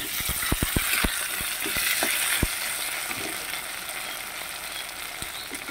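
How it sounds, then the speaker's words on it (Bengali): Potatoes fry in a pan until nearly browned, a soft, continuous sizzle with a few sharp clicks of stirring early on, close and without talk. "এবারে তো আলুটা লাল লাল করে ভাজা প্রায় হয়ে এসেছে।"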